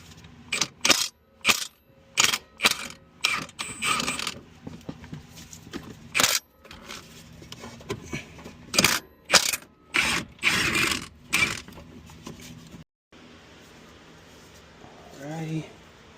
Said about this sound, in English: I'm probably gonna have to pop the brake caliper off and get that axle out